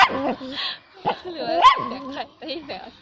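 A dog barks and yips in short repeated bursts close by, with whimpering pitch rises between barks and a voice audible alongside.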